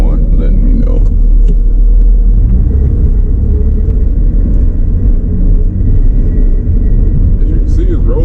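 A classic Mercedes W124 on worn-out tires rolls along in a loud, steady low rumble of engine and road noise, heard from inside the car, with light rattles on top.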